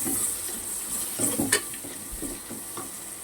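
Onions frying in a pan until golden, with a steady sizzle and several soft stirring scrapes, heard close and alone without any talking.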